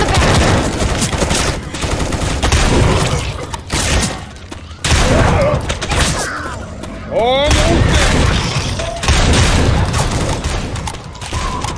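Rapid gunfire bursts in the Left 4 Dead 2 zombie shooter, loud and near, repeating across the scene amid crashes and impacts, with players talking over the shooting.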